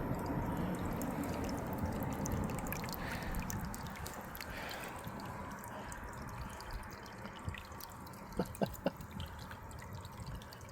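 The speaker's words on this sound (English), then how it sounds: "The water runs back down from the bowl, back down into there." Water runs from a hummingbird birdbath bowl down into its reservoir as a steady, soft trickle, with a few brighter drips near the end. Close and quiet, with no voices.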